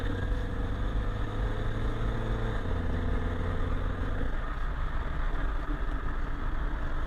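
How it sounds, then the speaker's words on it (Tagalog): A steady car engine idle with a constant low hum and air filter intake whoosh, close by, with a lower tone dropping out partway through. No one speaks. "rinig niyo yung air filter."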